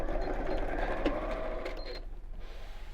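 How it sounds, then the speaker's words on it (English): Sewing machine stitching across the fabric of a Christmas cone, a steady close mechanical whirring hum running throughout with a slight slowdown near the end. "I'm going to sew all the way across the outside, a little way down the lining, stop, leave a gap, and then sew up to the point."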